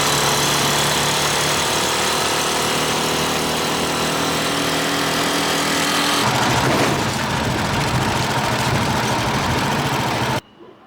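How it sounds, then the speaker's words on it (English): A small motorized tricycle's engine runs steadily and loudly up close, a constant mid-pitched drone that roughens partway through and cuts off near the end. "deliver it on his little machine tricycle thing."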